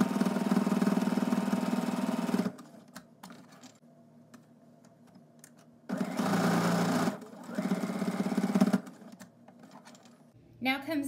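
A sewing machine stitches a fabric face mask in two bursts of steady close mechanical whirring, separated and followed by quieter handling sounds.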